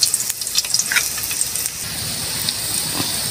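Onion and garlic frying together in a pan for a sweet and sour sauce, a steady broadband sizzle with a few crackling pops, fairly close and continuous, no voices.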